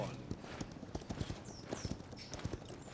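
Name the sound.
horse hooves and whinny in the video game Paladins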